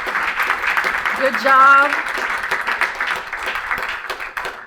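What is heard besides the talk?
audience applause at annual meeting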